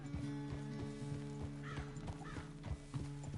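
A horse in the Red Dead Redemption 2 video game trots with steady rhythmic hoof clip-clops, close and clear, and lets out a couple of brief whinnies partway through over a low droning game backdrop.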